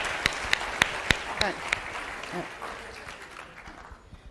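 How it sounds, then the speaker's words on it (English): Audience applause for volunteers at a Seawolves gathering, starting as a few loud separate claps and then spreading into a steady patter of clapping that slowly fades. A voice speaks briefly near the start. "Let's give everyone who volunteered a round of applause."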